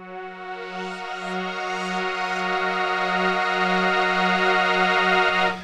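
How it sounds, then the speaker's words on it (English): A sustained synth pad chord from a Waldorf Blofeld synthesizer, rich and harmonic with a gently pulsing low note, holding steady and loud for several seconds before fading out, with no talk. "I've created a pad sound on my Waldorf Blofeld there behind me"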